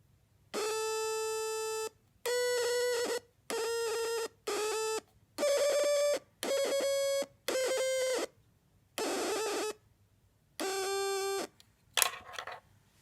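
Dubreq Stylophone glitching, playing about nine separate buzzy electronic tones in bursts of roughly one second with short silences between, ending in a brief crackly stutter.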